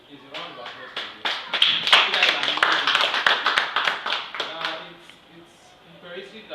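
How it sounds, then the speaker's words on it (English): Audience at the Ibadan Book Club clapping together, a dense run of sharp hand claps that swells and then thins out over several seconds, with voices murmuring underneath. "Please, a round of applause for this."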